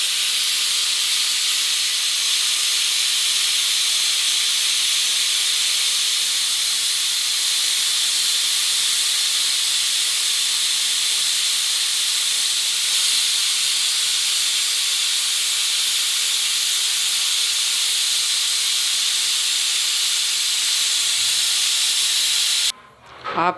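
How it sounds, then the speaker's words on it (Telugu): A pressure cooker on the stove, cooking jackfruit biryani, gives off a continuous, loud, even hiss of escaping steam for the whole stretch. The hiss cuts off abruptly at the very end, and no one speaks. "ఇప్పుడు మూత పెట్టుకొని ఒక విజిల్ వేయించుకుందాం ఫ్రెండ్స్"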